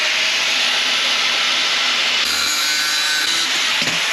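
A cutting tool bites through metal tube while building a bar frame, producing a continuous loud hissing grind with a shift in tone midway and a brief clunk near the end.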